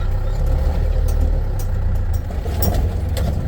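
A car engine idles steadily after turning in, a continuous low rumble running close and loud throughout with faint higher clatter on top.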